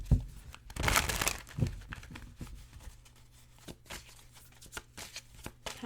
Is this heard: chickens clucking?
no